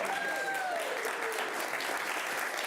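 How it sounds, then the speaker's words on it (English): An army band applauds its guest conductor: sustained, close clapping from many hands at a constant level for the full few seconds, with a couple of brief whistle-like tones rising above it. "And I even got applause from the band."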